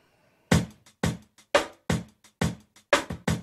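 A drum breakbeat sample runs through an expander, its kick and snare hits clipped short with the room tail cut away, leaving tight, dry strikes in a steady pattern, loud and alone.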